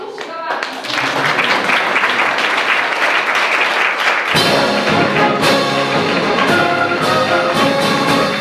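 An audience at the Kostivere cultural manor breaks into applause that swells to a loud, dense, continuous clapping, with some voices underneath.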